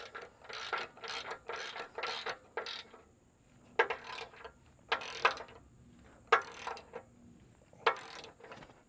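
A ratchet wrench tightening bolts on a truck bed during a bed swap and frame repair, with bursts of rapid metallic clicking in short runs separated by brief pauses, close and moderately quiet, no speech.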